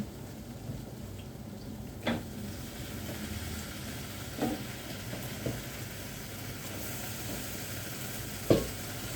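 Washed chicken fries in a pan with a steady, even sizzle like light rain, broken by a few isolated clicks and taps of a utensil.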